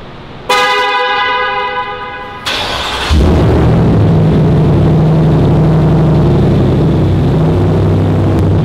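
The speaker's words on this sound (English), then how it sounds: "a Ford Raptor has a V8 engine." A Ford Raptor's V8 engine starts with a loud honk-like tone and a burst, then settles into a heavy, steady rumble that continues loud and close to the end.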